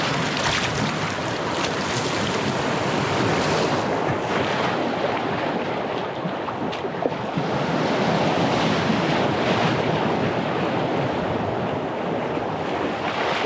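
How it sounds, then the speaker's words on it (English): A whitewater river rapid in the Arctic barrens roars continuously as a broad, loud rush of churning water, blended with gusting wind buffeting the microphone. "it looks like we have a rapid right as this bluff comes to an end"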